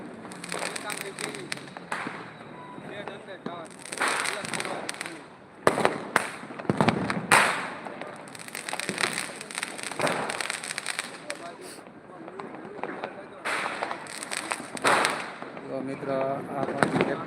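Firecrackers and fireworks burst again and again at a festive celebration, sharp cracks and pops coming in dense clusters close by, with voices talking over much of the racket.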